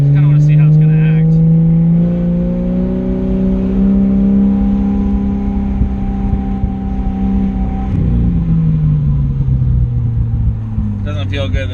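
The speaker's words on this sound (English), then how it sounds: "Let's take it for a little drive down the highway, or just like in front of these parking lots." A modified car with a trigger issue drives through a parking lot, its engine revving and droning loud and close with pitch rising then falling; voices talk over it.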